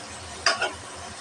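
Onions frying in a pan, a steady close sizzle broken by one short scraping stir midway, with no voices.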